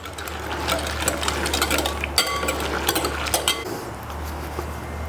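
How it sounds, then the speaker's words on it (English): A whisk beats oil into a dressing in a bowl, producing rapid, rhythmic metallic scraping and clinking against a low steady hum, close by and fairly loud before easing off near the end. "Now we want to start just slowly adding some oil and keep whisking."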